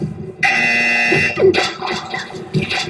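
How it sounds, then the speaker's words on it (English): A loud electronic buzzer blares for about a second at a wrestling-style rumble event, followed by crowd noise and commotion. "we get a buzzer"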